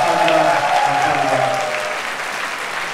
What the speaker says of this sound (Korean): 우리 모두를 위해서 큰 박수 부탁드립니다